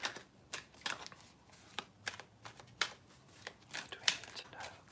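Tarot cards are shuffled close by in quick, irregular bursts of soft riffling and tapping, fairly quiet, with no talking.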